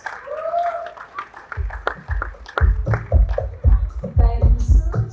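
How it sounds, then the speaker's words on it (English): A small audience claps at a conference session, scattered hand claps that thicken into moderate applause over a few seconds, with a faint voice early on. "Give her a round of applause, ladies and gents."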